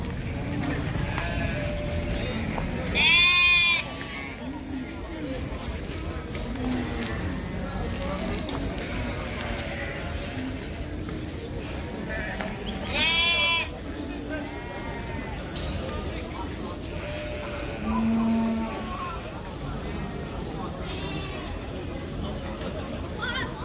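Sheep and pregnant ewes with lambs bleat at the Jambyl livestock market in Taraz, with a few loud, close bleats rising over a steady crowd babble and traders talking, plus faint vehicle noise.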